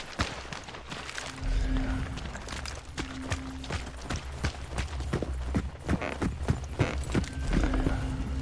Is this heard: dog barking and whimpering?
no